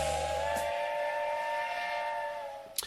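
A steam-style train whistle used as a sound effect, a sustained multi-tone blast held steadily for nearly three seconds, loud and upfront, ending with a brief click.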